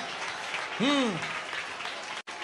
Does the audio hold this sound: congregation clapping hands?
yes